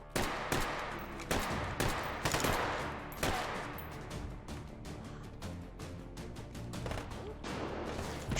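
Rapid bursts of video game gunfire crack out one after another, with dense automatic volleys and single sharp shots filling the space in a continuous fusillade.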